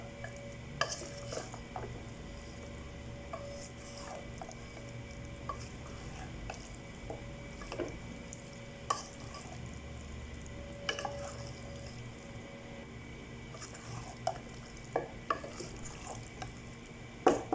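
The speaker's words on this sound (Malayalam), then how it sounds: "ഈ മസാലയിലേക്ക് ഇനി ചിക്കൻ ഫ്രൈ ചെയ്തത് ചേർക്കുക എല്ലാം കൂടെ നല്ല രീതിയിൽ മിക്സ് ചെയ്യുക" Fried chicken is stirred into masala in a pan, with faint scraping and occasional spoon clicks over a low sizzle, quiet and close, with no voices.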